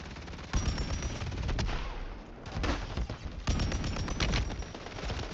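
Sustained machine gun fire in the shooter Warzone 3 Plunder mode, loud rapid bursts running nearly the whole clip with a brief lull midway before firing resumes.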